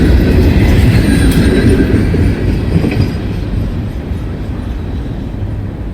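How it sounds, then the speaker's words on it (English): Freight train with Conrail box cars rolling past at close range, a loud steady rumble and rattle of wagons that eases slightly toward the end, with no talk. "some pretty nice Conrail box cars there."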